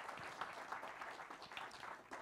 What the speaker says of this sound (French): Je vous demande d'applaudir très fort monsieur Christian Clavier, s'il vous plaît.